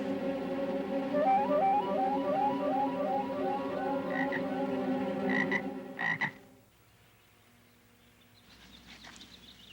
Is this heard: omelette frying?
no